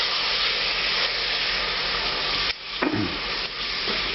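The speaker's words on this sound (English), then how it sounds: "I'm just going to stir this for another couple of minutes, evaporate off a lot of liquid from the vinegar" Chili oil sizzles steadily in a hot pan as it is stirred with a splash of malt vinegar, a dense frying hiss that dips briefly midway with a few scraping stirs, close and loud with no talking.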